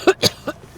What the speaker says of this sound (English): Sorry, coughing fit.